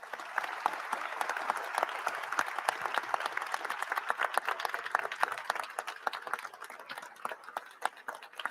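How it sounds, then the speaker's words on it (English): An audience applauds at an Artemis II crew event, a steady dense clapping that lasts throughout at a fairly close distance. "Everyone, a round of applause."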